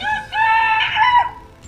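A rooster crows once, loud and close, a single drawn-out cock-a-doodle-doo that rises and falls before trailing off.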